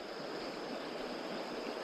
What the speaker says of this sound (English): It's not really a rapid, it's just a little waterfall